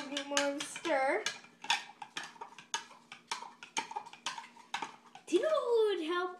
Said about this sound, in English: Let's just give it a little bit more of a stir.